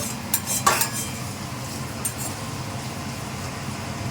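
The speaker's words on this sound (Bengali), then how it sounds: "এবার এই পিঠটাও ঠিক ওইভাবে ভালো করে কষিয়ে নেব।" Quail meat cooked with a little tomato and sour yogurt is stirred in a pan, a few sharp utensil scrapes and clinks near the start over a soft, steady cooking hiss, with no talking.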